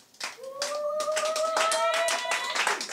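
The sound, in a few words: congregation clapping to acclaim Jesus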